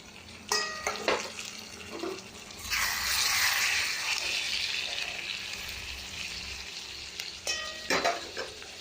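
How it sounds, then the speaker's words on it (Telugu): Prawns sizzle in a pan with onions, curry leaves, green chillies and cumin, a steady loud frying hiss that swells in the middle, with a few sharp clinks of a utensil stirring against the pan near the start and end. "ఆనియన్ వేగుతున్నాయి, కరివేపాకు, పచ్చిమిర్చి, జీలకర్ర వేగుతున్నాయి కదా"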